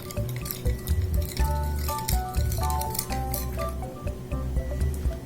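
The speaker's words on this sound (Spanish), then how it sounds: "Y vamos a mezclarlo." Beef salpicón is stirred with lemon juice, pepper and salt in a bowl, giving close, irregular clinks of a utensil against the dish and soft wet squishing, with no one talking.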